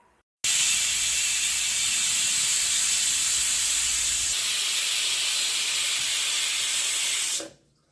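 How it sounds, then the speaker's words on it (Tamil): A loud, steady hiss of steam jetting from a pressure cooker vent while cooking crab soup, continuous for about seven seconds before cutting off abruptly. "குக்கர் மூடியை போட்டு மூடி வச்சுருவோம் வச்சுட்டு ஒரு நாலஞ்சு விசில் வரட்டும்"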